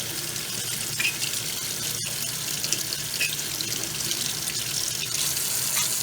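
Water being drawn into the carburetor of a neglected Stihl BG55 leaf blower, a steady close hissing, running-water rush that holds even for about six seconds, with one brief click near the two-second mark.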